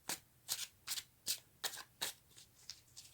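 Tarot cards shuffled by hand, with about ten quick riffling bursts in a steady rhythm. The bursts are close and soft, fading slightly toward the end.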